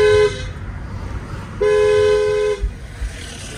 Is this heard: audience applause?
no